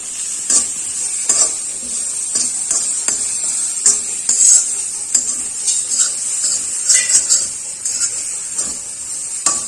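A spoon scrapes and clinks against an iron pan while food is stirred in hot ghee, a rhythmic series of close metallic knocks over a soft steady sizzle.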